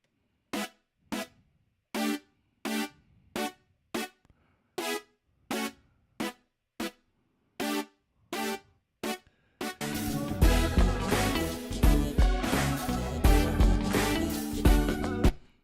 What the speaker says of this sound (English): Then I got a synth brass